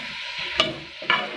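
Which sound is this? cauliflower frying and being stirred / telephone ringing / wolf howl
cauliflower frying and being stirred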